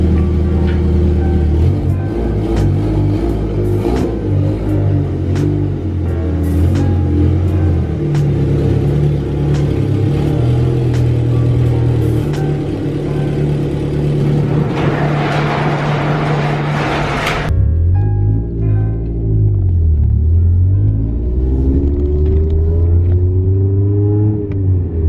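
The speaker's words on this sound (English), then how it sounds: "I'm gonna go ahead and drive it around the block to test it out" A 1999 Hyundai Tiburon, just after a wheel bearing replacement, drives around the block: a steady, loud engine rumble with rising and falling revs as it accelerates, and a brief tonal swell late in the run.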